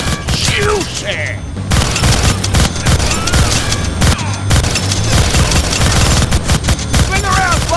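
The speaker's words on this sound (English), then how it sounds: "Gonna need both hands to shoot that minigun" A minigun roars in the Deadpool video game, a loud sustained stream of rapid fire mixed with booms and clanking mechanisms, while shouted game dialogue and whooshing effects cut through the chaos.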